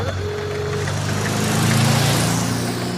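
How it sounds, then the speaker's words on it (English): A car engine roars close by, a rising, droning motor sound that swells and holds as the vehicle passes. "suddenly a magnificent motor car drives past"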